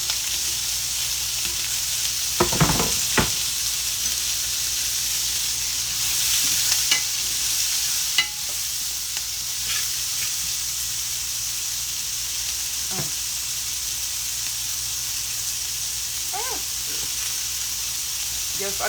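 Onions sautéing in oil in a pan, a steady close sizzle running throughout with occasional stirring scrapes and clinks.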